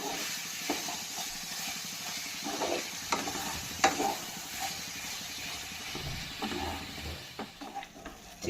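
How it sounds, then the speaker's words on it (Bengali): Chicken pieces cook in a pan for a home-style curry, with a moderate sizzle and hiss broken by intermittent scraping stirs and occasional clanks, heard fairly close, with no talking. "চিকেনটা আমি এখানে ভালো করে নেড়ে নিয়েছি"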